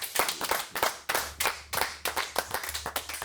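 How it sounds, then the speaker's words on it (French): A studio audience on a French TV show applauds a guest named Patrick, with distinct close hand claps in an uneven rhythm, loud and without talk, plus a low steady hum underneath. "On peut l'applaudir, Patrick."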